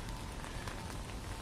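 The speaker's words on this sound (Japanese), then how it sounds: "雨です。" Steady rain falls in a hillside town of sloping streets in Nagasaki, Japan, a dense, even hiss that continues without a break.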